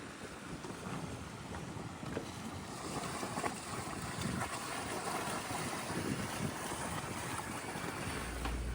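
A small dinghy carrying grocery shoppers approaches across open water on the Cape Fear waterway, a steady low motor rumble mixed with wind buffeting and splashing water, fairly constant and moderately distant.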